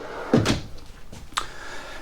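A cabinet door in a 2024 Forest River Flagstaff Micro Lite 25DK travel trailer bangs open, then a lighter knock follows a second later as it shuts, in a quiet room with no talking.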